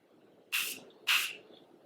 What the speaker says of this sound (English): What you can do is get some setting spray